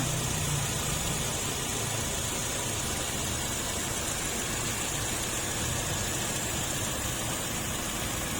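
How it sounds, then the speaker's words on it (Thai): A 2014 Toyota Altis 1.8G with a Dual VVTi engine idles under an open hood, a smooth, even hiss-like hum recorded up close that stays constant throughout, with no voices. "ให้ฟังเสียงกันชัดๆนะคะ"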